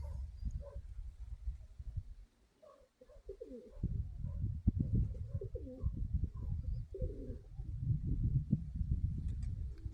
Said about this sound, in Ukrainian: Да, голуби хороший.